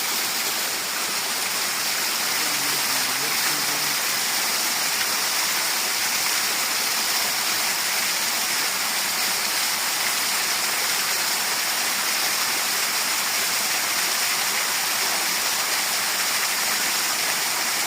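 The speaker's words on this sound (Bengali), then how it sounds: "পাহাড়ের মাঝখানে এই যে ঝর্ণা, এটা প্রকৃতিকে আরও দ্বিগুণ সুন্দর করে।" A hillside waterfall pours steadily, a dense continuous rushing roar of falling water that stays loud and even throughout with no voices.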